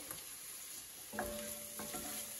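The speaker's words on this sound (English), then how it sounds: "carrots and onions are cooking up here very nicely" Carrots and onions fry in a ceramic pan, a soft, steady sizzle heard up close with a few stirring scrapes and a sharp knock at the end.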